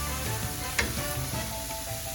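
Cauliflower rice fries in a pan with a steady, dense sizzle and crackle, continuous and close, with a brief brighter pop partway through.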